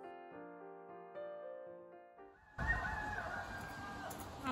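A neighbor's rooster crows loud and close, a long strained call that enters midway after a stretch of steady tonal background sound.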